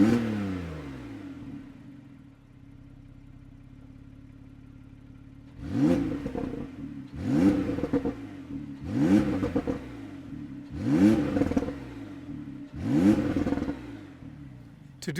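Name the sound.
Porsche 911 991.2 Carrera S exhaust revving with valves open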